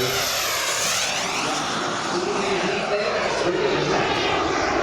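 RC 1/5 scale English Electric Lightning F2A model with a kerosene-burning jet engine on reheat at Weston Park, giving a loud, continuous roaring jet whoosh with a shifting pitch as it passes, steady throughout.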